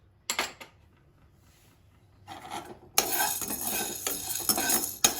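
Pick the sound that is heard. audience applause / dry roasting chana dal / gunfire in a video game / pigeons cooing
dry roasting chana dal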